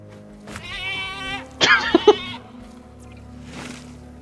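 A goat in Jurassic World Evolution 2 gives a drawn-out bleat, then several sharp, loud cries in quick succession, and a fainter call follows over a low steady hum.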